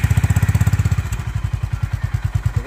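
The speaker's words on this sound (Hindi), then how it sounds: "तो आप सबसे पहले चलते हैं इसके एग्जॉस्ट नोट की तरफ, क्योंकि इसका जो एग्जॉस्ट नोट है वो काफ़ी ज़्यादा मतलब लाउड नहीं है पर बहुत अच्छी आवाज़ है उसकी" A Honda Highness CB350 DLX Pro motorcycle idles close by, its exhaust thumping in a loud, even, rapid beat that stays steady throughout.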